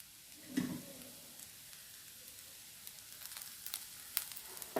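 Faint, steady sizzling of tender banana slices frying in oil, with a few soft pops and clinks scattered throughout and no talking.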